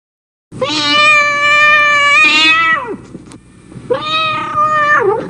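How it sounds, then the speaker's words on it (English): Ginger cat in a veterinary waiting room in the educational game Learning Land, giving two long, loud, drawn-out meows close up with a short pause between them. "There's a ginger cat in the waiting room."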